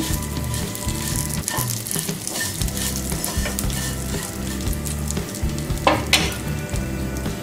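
Semai vermicelli frying in ghee over medium heat in a pan, with a steady close sizzle, rhythmic stirring scrapes and occasional sharper clinks of the utensil against the pan.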